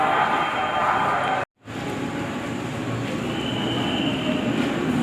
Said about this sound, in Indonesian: Nah, ini dia ya keretanya.